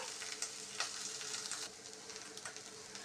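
A Libyan mbakbka pasta sauce of tomato juice sizzles and fries in a pan while being stirred, a steady close hiss with small scraping bursts from the stirring, and no voices.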